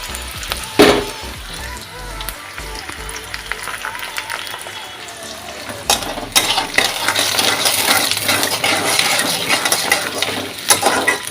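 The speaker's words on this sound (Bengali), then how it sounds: "এই তো পেঁয়াজটা বেশ ভালোই ভাজা হয়ে যাচ্ছে" Chopped onion frying in a pan for a raw jackfruit curry, a steady sizzle with scattered clinks and scrapes of a utensil that grows louder and busier toward the end.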